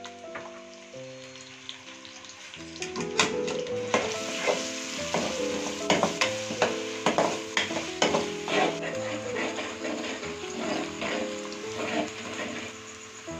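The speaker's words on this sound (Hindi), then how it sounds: "चिकन निकाल लिया और इसी ऑयल में प्याज ऐड कर देंगे" Onions fry in oil left from cooking chicken, a dense close sizzle with repeated scraping stirs and clattering spoon strikes against the pan, under a low tonal hum throughout.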